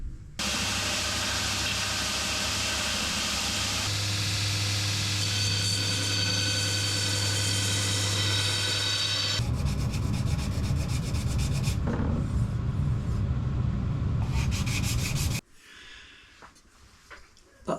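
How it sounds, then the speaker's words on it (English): Hollow grinding the four bevels on a steel blade gives a loud, continuous abrasive rasp over a motor hum, with the pitch and grit shifting as the contact changes. It runs for about fifteen seconds before cutting to a quieter background. "then we can go about grinding, hollow grinding the 4 bevels in"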